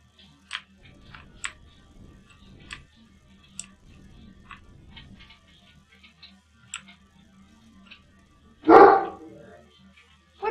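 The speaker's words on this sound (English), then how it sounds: "What is he barking at?" A dog barks once, loud and close, after a quiet stretch of faint ticking and small scattered sounds indoors.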